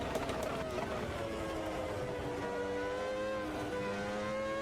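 Engine of an off-road car on gravel revving and rising in pitch, a steady loud drone with climbing harmonics, voices faintly underneath.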